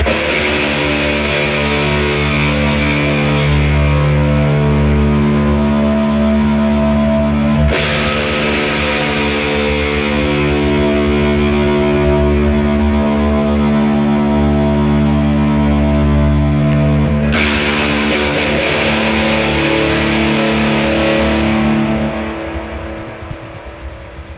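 Heavily distorted electric guitar through two drive pedals, sustained thick chords ringing loud and close with a hissy noise bed, struck anew a few times before fading at the end.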